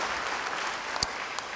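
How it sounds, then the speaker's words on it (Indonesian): Church congregation applauding during a sermon, a brief stretch of steady clapping with a few sharper individual claps standing out near the end. "Yang mau beri tepuk tangan bagi dia."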